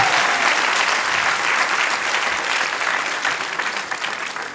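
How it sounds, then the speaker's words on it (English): A big, loud round of applause from a crowd at a devotional Gita Jayanti gathering, dense and continuous, easing slightly toward the end. "I think we have a big round of applause for Radha Govinda today."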